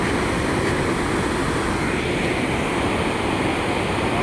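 Water pours through a single opened gate at the Pulichintala dam project in a loud, constant roar. The rushing wash stays unbroken and close throughout, with no voices.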